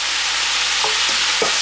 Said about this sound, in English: I will add my whole can of pineapples into my wok.